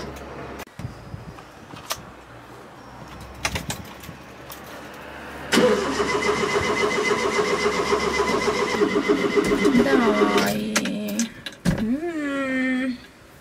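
A Fiat 850 is started nearby. After a few quiet clicks the starter cranks, and the engine catches and runs at a steady mid-pitched idle for several seconds. It then drops off and blips again briefly, with no talking over it.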